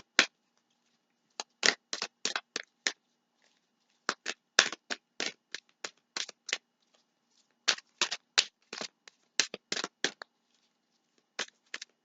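Cards are shuffled in quick riffling bursts, short crisp flurries separated by brief pauses, close and clear.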